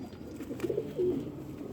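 Close, low cooing from a Kasuri Lahori female pigeon: a couple of short throaty phrases over constant background noise.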